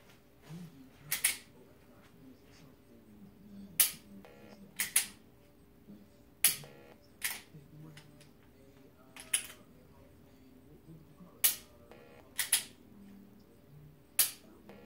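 A pistol is dry fired with a training sensor, giving a series of sharp, crisp trigger clicks, often in quick pairs, spaced a second or two apart, close and moderately loud over faint background noise.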